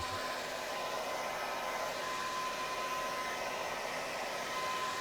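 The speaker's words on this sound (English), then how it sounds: "So an old trick I learned from Ted to make this dry faster if you don't want to wait is to use a hair dryer" A hair dryer blows steadily and loudly, drying EVA foam cosplay props, a constant whooshing roar with a faint whine, running without pause throughout.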